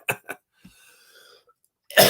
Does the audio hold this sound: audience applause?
no